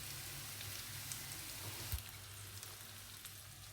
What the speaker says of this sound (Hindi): इसको फ्राई होने देंगे 3 मिनट एक साइड से